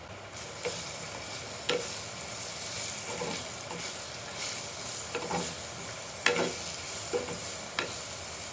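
Bitter gourd and chili stir-frying in a hot pan, a steady sizzle throughout with scattered scrapes and clacks of a spoon stirring, close and alone.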